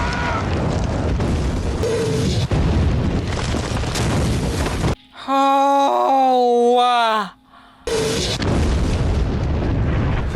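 In the war drama Band of Brothers, heavy bombs burst among snowy trees, deep booming blasts and rumble, broken midway by a moaning groan before the explosions resume, with a voice briefly reacting.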